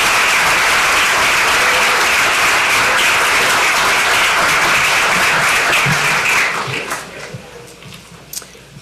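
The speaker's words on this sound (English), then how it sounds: "Can we give all of our student performers a big round of applause?" An audience at a school district event claps loudly for student performers, giving sustained, dense applause that carries on before gradually tapering off.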